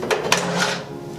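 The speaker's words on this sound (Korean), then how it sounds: "고온형 특수 우레탄으로 마감된 서랍을 빼서" A urethane-finished ash drawer slides out of a Spartherm Amor Gold wood-burning stove, a brief scraping rattle with a couple of sharp knocks, close and alone.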